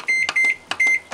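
A microwave oven beeps in quick sharp tones, about four short beeps in two pairs, loud and close, as more cooking time is added while cooking fried smelt in an omelette.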